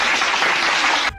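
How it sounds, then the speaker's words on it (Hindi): A studio audience bursts into dense, steady applause at a televised political debate, loud and unbroken for about a second before cutting off abruptly. "बजाओ ताली"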